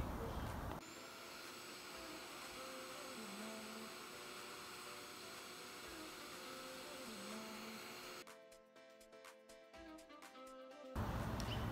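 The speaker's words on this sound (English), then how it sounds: "I've got my shop vac, so I'm gonna go ahead and vacuum all the dust and everything out of it" A shop vac runs steadily while vacuuming dust and leaves out of vintage wicker furniture, a constant whirring drone with faint shifts in pitch as the nozzle moves, fairly quiet throughout.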